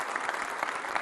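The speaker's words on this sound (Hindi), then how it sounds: "तालियों के साथ आप सभी का स्वागत जो हमारे साथ यहाँ पर जुड़ रहे हैं" A television debate-show studio audience claps to welcome guests, a short burst of dense, steady applause with a few louder peaks and no voices.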